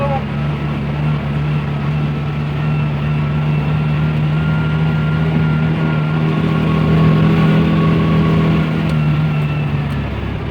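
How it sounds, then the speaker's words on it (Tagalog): A tuktuk engine runs steadily on a mountain road, a continuous low rumbling drone with a constant hum throughout, close and loud. "Nakakahinga yung makina natin."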